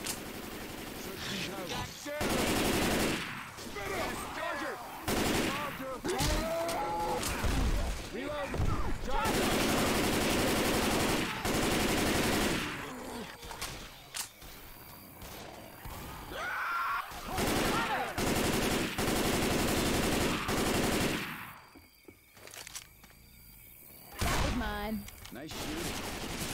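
Rapid bursts of automatic gunfire and single shots ring out in Left 4 Dead 2 in the Swamp Fever campaign, loud and repeated with brief pauses, mixed with groans and in-game character voices calling out.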